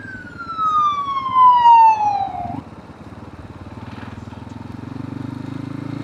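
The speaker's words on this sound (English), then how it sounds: "Here, ambulance." An ambulance siren wails past a moving vehicle, a loud descending tone that falls away after a couple of seconds, followed by steady road and engine rumble.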